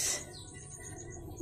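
Young pigeon squabs give faint, high chirps in a summer loft, a brief brighter call at the start, then soft peeping over a low, steady background.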